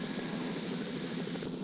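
A helicopter in The Sims 2: Bon Voyage drones steadily with a broad, even rotor-and-engine wash that holds at constant loudness, then thins slightly near the end, with no voices.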